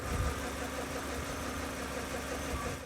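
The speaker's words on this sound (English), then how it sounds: "I narrowed it down to the timing chain tensioner." A BMW E31 850i V12 engine idles steadily with a faint ticking, rattling clatter from a faulty timing chain tensioner running under the hum, heard fairly quietly throughout.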